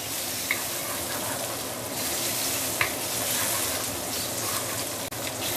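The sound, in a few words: stir-frying shiitake mushroom in a pan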